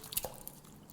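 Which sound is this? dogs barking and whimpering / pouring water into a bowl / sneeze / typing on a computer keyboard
pouring water into a bowl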